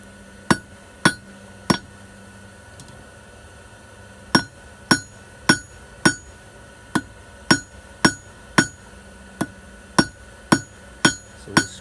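Steady ringing hammer blows strike a hot steel hook loop being drawn into a taper on an anvil, a few early strikes, a pause, then a regular run of about a dozen evenly spaced, sharp metallic hits.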